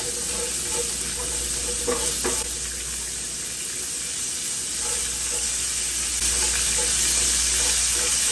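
Onions for a creamy Cajun pasta hit a hot pan and sizzle in a loud, steady hiss, with a few faint stirring clinks and no talking.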